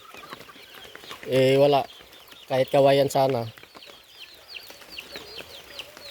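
Rain-soaked chickens sheltering indoors on a rainy morning give several loud, close clucks and squawks, one long call and then a quick pair, with someone speaking briefly in the background and rain noise underneath.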